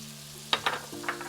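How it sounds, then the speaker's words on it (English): Green peppers hitting a pan of frying minced garlic, heard as a soft steady hum that breaks into a few quick sizzling crackles and stirring scrapes partway through, close and fairly quiet, no speech. "Now after 1 minute, I'm gonna add my peppers"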